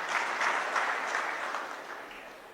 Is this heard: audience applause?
yes